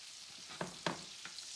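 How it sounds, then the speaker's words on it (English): Salmon sears in flavored butter in a hot pan, giving a faint, quiet sizzle broken by a few sharp crackling pops. "Now I'm going to position my fish in the pan once it easily moves, so that I can baste it with all of this nice flavored butter."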